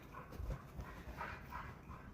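A dog outdoors on a cold morning pants faintly and steadily, with a few soft whimpers and no clear bark.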